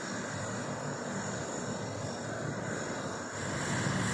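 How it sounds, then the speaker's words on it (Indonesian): A Hercules C-130 military transport plane lands at Rembele Airport in Bener Meriah, producing a loud, continuous propeller engine roar that swells slightly near the end, with no talking. "pesawat Hercules C-130 dengan nomor lambung A1317 mendarat sempurna di Bandara Rembele"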